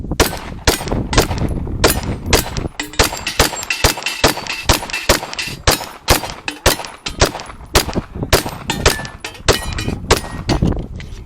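Rapid, loud gunshots from a compensated Shadow Systems XR920P pistol, fired in quick strings of sharp cracks with brief pauses between bursts, close by and alone without talk.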